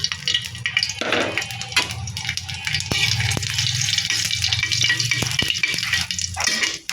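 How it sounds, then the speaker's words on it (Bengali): Dried chilies and whole cumin sizzling in hot oil for a village-style mashkalai dal, a steady loud crackling fry with occasional sharp pops and spatters, close by and without talk. "এখানে তেল বসিয়ে গরম করে নিয়েছি এবার দিয়ে দেব শুকনো মরিচ আর গোটা জিরে"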